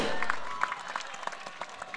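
Scattered hand claps from a cricket match crowd, a short burst of applause with uneven, separate claps rising over a faint murmur.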